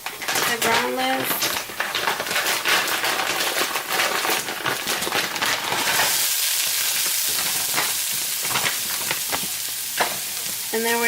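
Beefless vegan ground crumbles sizzle and fry in a pan for chili, a steady broadband hiss with stirring scrapes and utensil clinks, with a person talking over the cooking.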